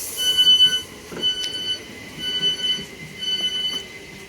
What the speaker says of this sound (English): Train now approaching is a Dartford bound class 376.